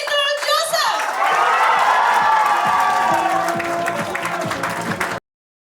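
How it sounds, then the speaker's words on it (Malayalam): A stage audience breaks into loud, sustained applause and cheering to welcome a film director at a pre-release event and fans meet, with voices mixed into the clapping until it cuts off abruptly. "ഒരു ചിത്രം ചെയ്യാൻ പോകുന്നത് ഒരു വലിയ കൈയടിയോട് കൂടിയിട്ട് നമുക്ക് സ്വാഗതം ചെയ്യാം"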